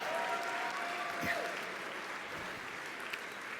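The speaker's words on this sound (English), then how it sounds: "Let's give them a big round of applause." An audience at a live corporate mentalist show applauds volunteers onto the stage, with a sustained clapping wash at moderate distance that holds throughout and fades only slightly.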